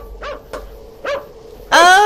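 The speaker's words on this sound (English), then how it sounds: "There's a dog." A dog in a horror video game barks sharply three times in quick succession, then gives a louder, drawn-out whining bark, close and clear over a low ambient hum.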